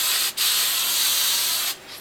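Hairspray hisses onto styled hair from close by: a short burst, a brief pause, then a longer steady spray that stops abruptly, with no talking.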